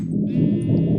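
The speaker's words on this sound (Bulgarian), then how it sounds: "Защото ще е хубаво да имам още овце и така." Sheep bleating in a video game: one drawn-out, wavering bleat, loud and close, with no other sound around it.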